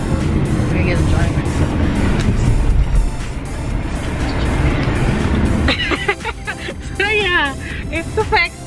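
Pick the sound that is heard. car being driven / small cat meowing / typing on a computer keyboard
car being driven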